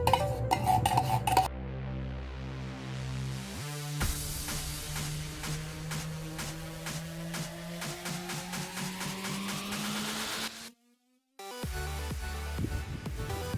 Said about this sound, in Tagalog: Simpleng kutsara lamang sa paghalo nito ay okay na.